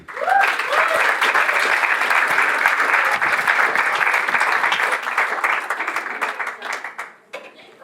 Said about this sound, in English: Can we please have a big round of applause for Andy?